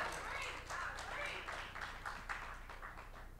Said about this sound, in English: If you believe that, clap your hands.